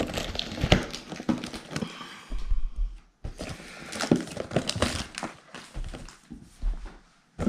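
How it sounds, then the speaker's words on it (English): Scissors snip through the plastic wrapper on a 2019 Topps Heritage Mega Blaster box of trading cards, giving bursts of crinkling and crackling with short pauses between them, close up and with no talk. "Fortunately, I brought some scissors."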